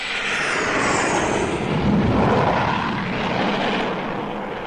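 A propeller aircraft drones steadily overhead as a radio drama sound effect, loud and continuous with a slow rise and fall as it passes, no voices over it.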